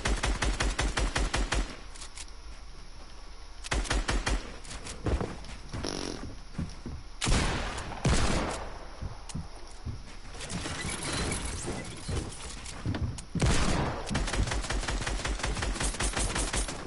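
Fortnite gunfire rattles in rapid bursts, with quick strings of shots broken by short pauses and a dense stretch of fire near the middle, loud and close throughout.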